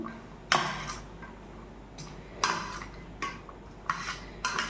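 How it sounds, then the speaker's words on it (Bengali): A spoon scrapes and clinks in a pan while spices are stirred into hot oil, giving several sharp metallic strokes at an irregular pace over a low background hiss. "এটা একটুখানি এর মধ্যে নেড়ে নেবো"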